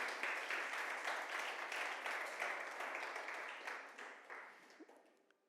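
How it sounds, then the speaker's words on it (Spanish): A church congregation bursts into strong applause, a bright rhythmic clatter of many hands that gradually tapers and thins toward the end. "Dale un fuerte aplauso al Señor,"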